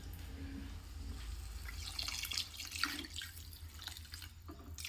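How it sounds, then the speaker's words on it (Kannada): Water poured from a mug into a pot while making tomato sambar, a soft, steady splashing and trickling that is close but fairly quiet. "ಒಂದು ಚೊಂಬನ ತಗೊಂಡು ನಮಗೆ ಎಷ್ಟು ಅಳತೆ ನೀರು ಬೇಕು ಸಾಂಬಾರಿಗೆ ಅಷ್ಟು ಅಳತೆ ನೀರು ಹಾಕ್ಕೊಳ್ತಾ ಇದ್ದೀನಿ."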